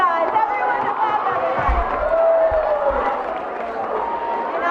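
An audience applauds and cheers steadily throughout, a dense wash of clapping mixed with crowd voices.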